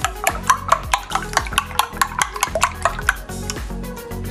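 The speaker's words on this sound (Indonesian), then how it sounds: "proses berikutnya si telur tadi kita kocok dulu ya" Eggs being whisked in a bowl for tahu tek, a rapid, steady run of clinking strokes with a fork or whisk against the bowl, close and fairly loud, with no voices.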